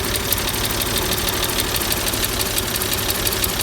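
Old engine with a full air filter idling after sitting for a couple of years, a steady rough rumble with rapid even knocking pulses, close and continuous with no talking.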